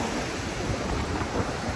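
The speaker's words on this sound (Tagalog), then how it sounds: "ang lakas ng alon sa dagat sa Barok" Strong sea waves break on the Barroc coastal zone of Tigbauan during a typhoon, a dense, steady roar of surf mixed with wind noise buffeting the microphone, loud and unbroken throughout.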